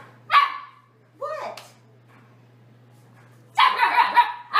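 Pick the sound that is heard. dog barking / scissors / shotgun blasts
dog barking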